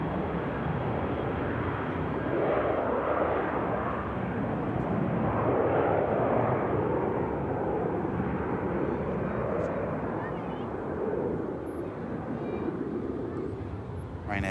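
A Ryanair airliner with retrofit winglets takes off from runway 23 left and climbs out, its engines a sustained heavy roar that stays loud and fairly even, with a voice faintly underneath.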